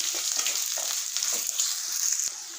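Whole small onions sautéing in a pan for Chettinad chicken gravy: a bright, continuous close sizzle with a few stirring scrapes, no talking.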